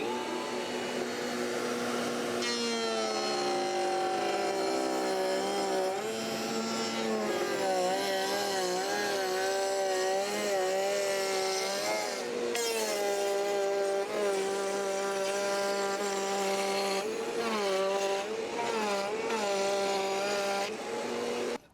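A homemade router table cutting an edge on hardwood, a loud sustained high whine with shifting pitch as the bit bites into the wood, running for the whole span before cutting off abruptly.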